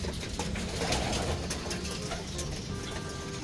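A blue bar racing pigeon coos softly in a few low, throaty phrases amid background noise and faint higher chirps, fairly close but not loud.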